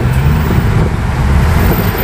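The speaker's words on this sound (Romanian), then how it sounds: "ia uite ce trafic." Dense city street traffic in Paris near the Galeries Lafayette, a loud steady roar of cars, buses and engines rumbling continuously close by with no clear voices.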